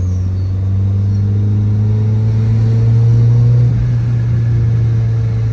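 Mazda Miata engine pulls in fourth gear as a loud, close, steady drone that swells gradually, a smooth rising hum with a deep rumble underneath and no talk over it.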